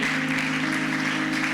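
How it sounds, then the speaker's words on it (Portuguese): A church congregation applauding together, a dense steady wash of clapping held at an even level from start to finish, with no talk over it. "Você pode aplaudir ao Senhor mais uma vez."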